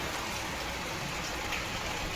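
Steady rain falling on a rooftop in a continuous, even hiss with no breaks, fairly soft and close, with no talking.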